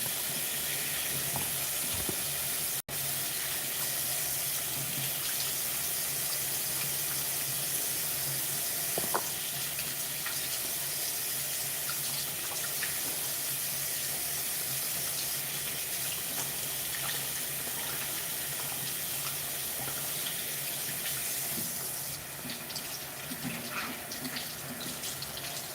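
Tap water runs steadily into a sink while hands are washed, a loud continuous hiss that holds almost unbroken throughout, with no voices.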